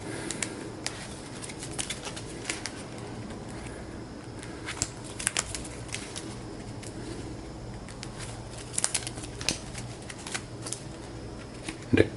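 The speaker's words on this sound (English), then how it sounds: "And we'll shuffle the other 2 into the deck." Playing cards from a trading card game deck are shuffled in quiet bursts of riffling and tapping at close range, with brief pauses and a few louder snaps near the end.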